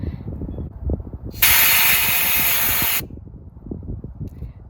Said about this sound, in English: you want to start unscrewing that until you hear air coming out